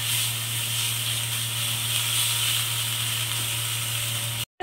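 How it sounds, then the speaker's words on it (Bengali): Ginger and green chilli paste frying in a pan for a vegetarian dal puri recipe, giving a steady loud sizzle and hiss over a low constant hum, cutting out abruptly near the end. "এই পেস্টটা এর মধ্যে দিয়ে ভালো করে ভেজে নিচ্ছি"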